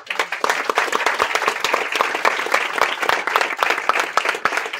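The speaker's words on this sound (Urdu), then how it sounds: "زوردار تالیاں." Loud applause from an audience at a church service, dense and continuous clapping close by that holds steady throughout, with no speech over it.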